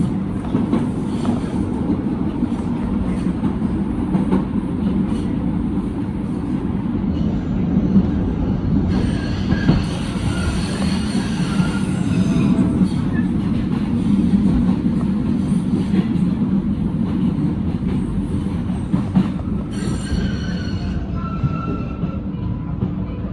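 A subway train rumbles steadily throughout, with brief metallic wheel squeals and hissing bursts rising over the continuous low roar of the cars.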